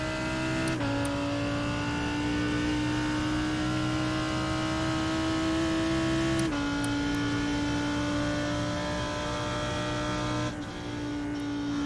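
A GT3 race car at Suzuka Circuit in iRacing delivers a loud, steady engine drone that climbs in pitch, broken by two or three sharp gear-change drops. No one talks.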